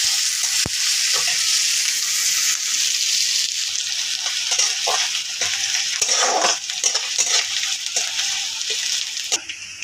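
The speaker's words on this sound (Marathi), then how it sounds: "कांदा आपल्याला चांगला लाल करून घ्यायचा आहे" Onion and curry leaves fry in a pan, hissing loudly and steadily for the whole stretch, with occasional scraping stirs and light clinks of a utensil against the metal.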